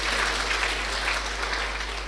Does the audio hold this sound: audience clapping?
yes